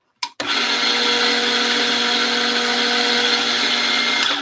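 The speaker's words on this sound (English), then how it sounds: "So I'm going to grind through a little bit here just to purge out any of the old coffee that remains." An espresso grinder runs steadily for about four seconds, purging stale coffee grounds through its burrs, a loud continuous whine with a steady motor hum after a brief click at the start.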